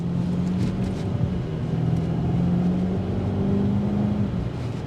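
A 2025 BMW X5 M60i engine pulls hard under acceleration, a steady droning rise in pitch from inside the cabin with road roar underneath and no voices.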